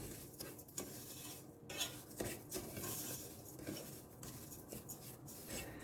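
A spoon stirs a cup of sugar into browned semolina halva in a pan with walnuts, giving steady close scraping and soft clinking against the pan with no talk.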